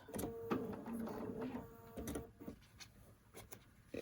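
Sewing machine stitching along a triangle quilting ruler, making a quiet, rapid mechanical whirring and clatter in short runs with pauses, heard close.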